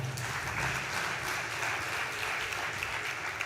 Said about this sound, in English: That wasn't a big enough hand clap for her.